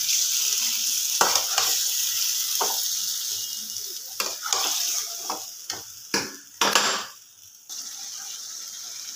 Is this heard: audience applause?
no